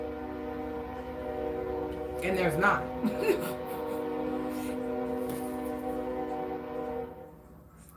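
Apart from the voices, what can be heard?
train horn blowing at night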